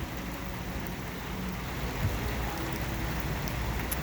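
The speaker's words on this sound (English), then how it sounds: "It's raining." Steady rain falls in Arizona, a continuous dense hiss of drops heard close and fairly loud throughout, with no voices.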